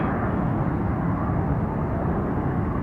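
A noisy airliner at Atlanta Hartsfield-Jackson airport roars with a loud, steady, broadband engine rumble that holds constant throughout, with no talk.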